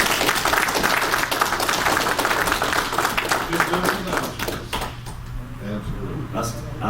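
Scattered applause crackles through a room at a county commissioners' budget workshop, dense at first and then thinning out as voices return.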